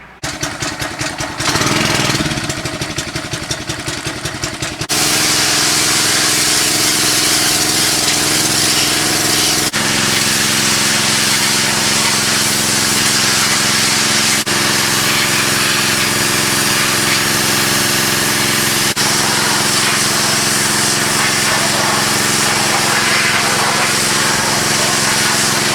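A pressure washer with its nozzle on the soap setting sprays inside a washing machine tub, a loud continuous engine drone with a short rougher start before a long steady run and no talking.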